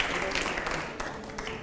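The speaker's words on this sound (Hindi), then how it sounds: "लेकिन जोरदार तालियां हो अगले सवाल से पहले, जोरदार तालियां।" Dense studio audience applause on a Hindi TV show fills the clip, a steady wash of clapping at moderate loudness with a voice faintly underneath.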